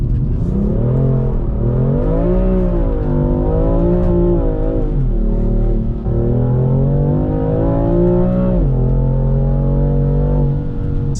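BMW M4 engine droning steadily while driving, loud and close, with rising and falling revs through gear changes and no talk.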